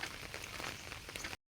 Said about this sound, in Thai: นี่ฝนตกพี่น้องเอ้ย 2 ชั่วโมงแล้ว